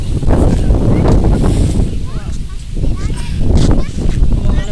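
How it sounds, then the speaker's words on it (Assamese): Strong wind gusts buffet the microphone outdoors in the green countryside of Mandakata, a loud, continuous roar that swells and eases in waves, with a voice faintly present underneath. "ইমান ধুনীয়া এজাক বতাহ আহিছে"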